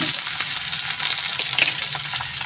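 Chopped vegetables hiss and crackle as they go into hot oil with onion and garlic already fried to reddish-brown, a steady close sizzle running throughout with no talk.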